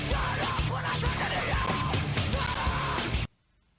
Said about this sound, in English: This guy is screaming and the guitars are heavy.